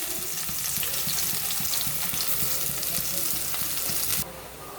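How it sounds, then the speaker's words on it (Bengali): Chopped onions with bay leaves sizzle and crackle loudly in hot mustard oil, a close, continuous frying hiss with stirring that drops to a quieter simmer near the end. "পেঁয়াজগুলো ভাজা হয়ে গেছে।"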